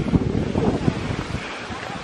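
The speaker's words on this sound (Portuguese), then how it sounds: "Velho, tá mó ventania." Strong wind gusts roar across the microphone outdoors in tall brush, a loud, broadband buffeting that surges and eases unevenly, with faint voices mixed in beneath the blowing.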